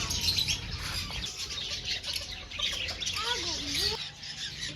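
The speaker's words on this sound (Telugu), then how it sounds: "బర్డ్స్ సౌండ్ మీకు కూడా వినిపిస్తాను, ఒక్కసారి అయితే వినండి" Birds squawk, chirp and flap their wings in an exotic park aviary in Tirupati, a busy, fairly close chorus of overlapping calls running throughout.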